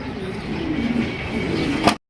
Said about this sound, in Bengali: অন্য কবুতর নিচে ডাকছে